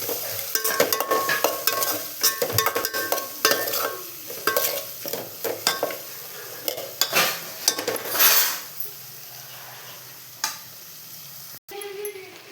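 Vegetables with garlic frying in a pan and being stirred, a close steady sizzle broken by repeated scraping and clinking of the spoon against the pan.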